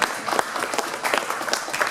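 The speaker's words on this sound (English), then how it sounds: "You can give yourselves a round of applause." An event crowd aboard the USS Intrepid in New York City applauds at the Thrustmaster 25th anniversary celebration, a brief, even burst of clapping throughout.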